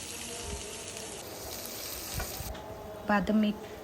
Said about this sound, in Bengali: এখন আমি প্যানে সামান্য তেল দিয়ে পেঁয়াজ কুচি দিয়ে দিলাম